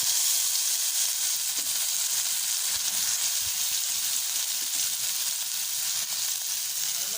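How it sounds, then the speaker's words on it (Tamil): Pirandai (adamant creeper) frying in a little oil in a pan, a steady loud sizzle that runs unbroken throughout. "கொஞ்சோண்டு எண்ணெய் ஊற்றிட்டு பரண்டையை போட்டு வதக்கிடலாம்"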